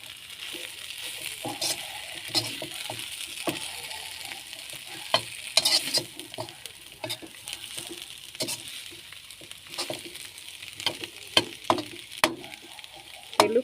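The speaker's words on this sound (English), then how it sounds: "and mix this well. Just for a minute or two, and our potatoes are ready." Potatoes fry in a skillet while being stirred, giving a steady close sizzle broken by irregular scraping and clacking strokes of the utensil against the pan throughout.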